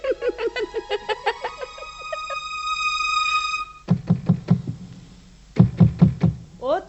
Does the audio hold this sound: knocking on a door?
yes